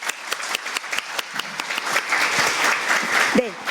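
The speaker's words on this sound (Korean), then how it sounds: "큰 박수를 치도록" Audience in a hall applauding a professor at an emergency-medicine patient-safety forum: crisp individual claps build into fuller group applause, with a voice briefly heard near the end.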